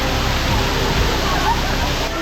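A waterfall pours cold water at a popular swimming spot, a steady, loud, close broadband rush that fills the whole clip without pause.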